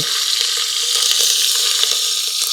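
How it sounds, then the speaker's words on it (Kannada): Mustard seeds, cumin, curry leaves and chillies sizzling in hot ghee for an Andhra-style palak pappu tempering, a continuous loud crackling fry close up with small pops throughout and no talk. "ತುಪ್ಪ ಕಾದ್ಮೇಲೆ ಸಾಸಿವೆ ಹಾಕಿ, ಸಾಸಿವೆ ಆದಮೇಲೆ ಜೀರಿಗೆ ಹಾಕಿ, ಕರಿಬೇವು ಹಾಕಿ, ಮೆಣಸಿನ್ಕಾಯಿ ಹಾಕಿ"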